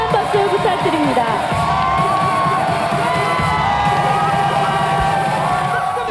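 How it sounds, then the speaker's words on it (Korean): A festival crowd along a parade route at the 2016 Colorful Daegu Festival cheers and shouts, a loud continuous din of voices and whoops with tonal sounds threaded through. "힘찬 박수 부탁드립니다."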